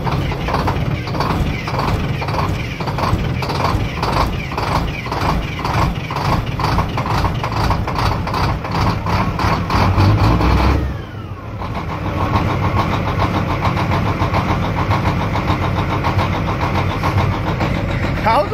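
Straight-piped Caterpillar truck engine cold-starting in a residential subdivision, a loud, rapid, rough-pulsing diesel clatter that holds steady, dips briefly, then settles back into a hard, choppy idle.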